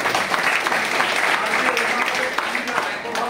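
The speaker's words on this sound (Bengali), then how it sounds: "জোরে হাততালি।" Audience clapping at a Vestige marketing plan meeting, a dense, continuous burst of applause close by and loud throughout, with voices mixed in beneath.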